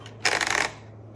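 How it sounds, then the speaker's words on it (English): A paper release lever on a 1955 Olympia SM3 large-carriage manual typewriter gives one short, bright mechanical rattle as the paper is freed, close and clear, followed by quiet. "paper release to straighten out the paper"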